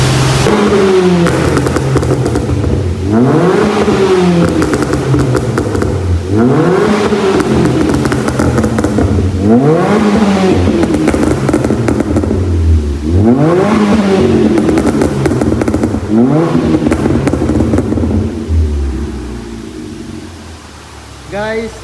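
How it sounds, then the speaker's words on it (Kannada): A car's exhaust running a burble tune blips repeatedly in a steady rhythm, each loud, close rev dropping off into crackling pops and burbles before the engine settles and quiets at the end. "ಈಗ ಬರ್ಬಲ್ ಟ್ಯೂನ್ ತೋರಿಸ್ತೀನಿ ಈಗ"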